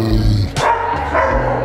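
Dogs at an animal shelter barking, with some growling, in short loud overlapping bursts that sound close and fill the whole brief moment.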